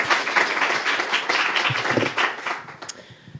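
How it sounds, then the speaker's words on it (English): A conference audience applauds to welcome a speaker, a full burst of clapping that thins out and fades toward the end. "Please applause."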